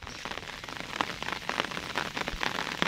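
Steady rain falls on surfaces during Typhoon Karina on a free-range duck farm, a dense, continuous patter with scattered louder drops and no break, recorded up close.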